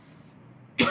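A man coughing once, sharp and close, at the end of a quiet moment.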